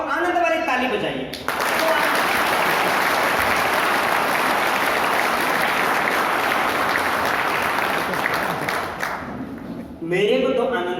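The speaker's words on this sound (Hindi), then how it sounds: "एक बार वो आनंद वाली ताली बजाइए।" An audience breaks into loud, sustained clapping at a live performance, a dense wall of applause lasting about eight seconds, framed by a voice talking before and after.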